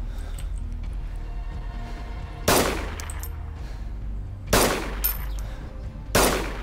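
Gunfire from a Mosin rifle and a double-barrel shotgun in the DayZ Standalone video game: three sharp, loud reports spaced a couple of seconds apart over a low background rumble.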